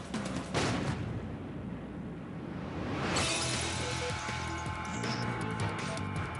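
Rifle bullet fired at about 2,550 feet per second striking a modern variable power rifle scope, heard as a sharp, loud crack with a shattering burst, followed by a second impact and lingering ringing debris.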